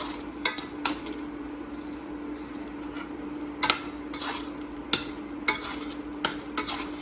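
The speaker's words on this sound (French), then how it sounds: "On va juste les mélanger comme ça" Strawberries and pineapple being mixed in a bowl for a fruit salad: intermittent utensil clinks and scraping knocks, close and fairly soft, scattered irregularly over a faint steady hum, with no talking.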